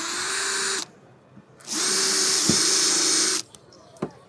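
A power drill whirs in two short bursts while pre-drilling a hinge screw hole, stopping and starting again, followed by a couple of faint clicks and knocks.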